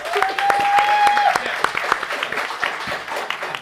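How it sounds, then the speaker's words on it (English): An audience at a live Houston show claps with scattered, distinct hand claps and a few cheers, close and lively, while people talk over it. "Go ahead and clap."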